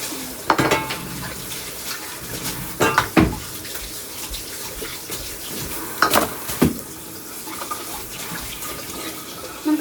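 Hot water pours steadily from a tap into a bathtub, a continuous splashing rush broken by a few sharper clinks and knocks, with no talking.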